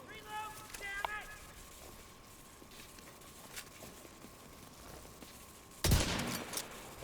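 Pistol gunshots in the Division 2 video game: a loud, sharp burst of shots near the end, following a stretch of quieter in-game ambience and faint tones.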